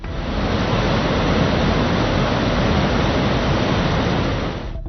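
Water from an overflowing dam roars through opened gates during heavy rain flooding in Vidarbha, a loud, steady broadband rush that holds constant throughout with no voices.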